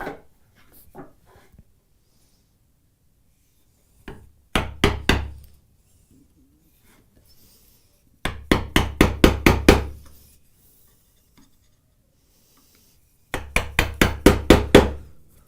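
A hammer drives a 1/4 inch chisel into wood in three clusters of sharp, rhythmic strikes, about six to nine blows each, loud and close with quiet pauses between.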